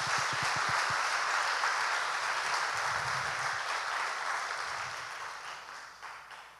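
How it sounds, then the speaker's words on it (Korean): An audience at a church youth camp claps together in a dense, steady applause that holds for several seconds and gradually fades toward the end, with a few brief voices underneath at the start. "우리 하나님께 감사의 박수를 한번 드릴까요?"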